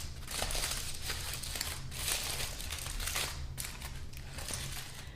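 Foil papillotes of peppers roasted at 200 degrees being torn and unfolded by hand, a close, loud run of crinkling and crumpling bursts with brief pauses between handfuls.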